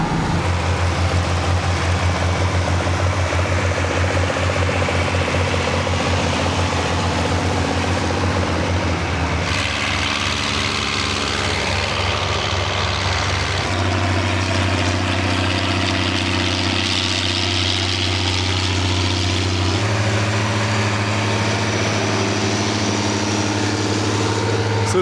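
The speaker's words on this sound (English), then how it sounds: "So we got the Oliver going, front wheel assist. It pulls this 5-bottom plow with ease here." Oliver 2255 tractor with front wheel assist pulling a 5-bottom plow through corn stalks, a steady low diesel drone running throughout with shifts in pitch and load, no talk over it.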